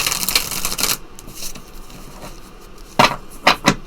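A deck of tarot cards is riffled, with a dense rapid flutter of card edges at the start, a quiet pause, and then several short snapping bursts as the deck is squared and shuffled again.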